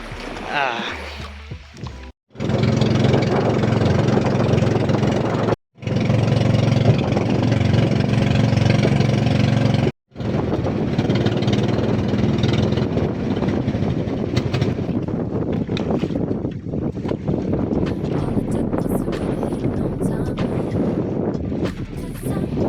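A small outrigger passenger boat's motor drones loudly and steadily on a crossing to Camiguin Island in the Philippines, broken by a few brief cutouts, with splashing water and wind noise throughout.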